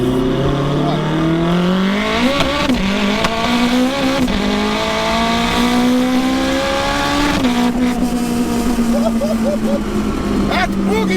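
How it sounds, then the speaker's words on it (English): A turbocharged car at full boost accelerating hard from second up through fifth gear, engine pitch climbing in long sweeps with brief drops at each shift, loud and close from inside the cabin. "just warm up the tyres in second gear. Go all the way through to fifth"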